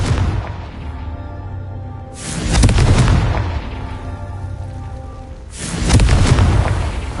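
Confringo spell explosions in the Hogwarts Legacy video game, two loud booming blasts a few seconds apart, each swelling and rumbling away over a low background.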